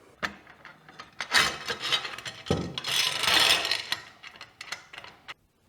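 A Kreg Precision Miter Gauge is assembled on a bench as bolts slide into the aluminum fence. Close scraping and rubbing metal noises come in irregular bursts, with small knocks and rattles.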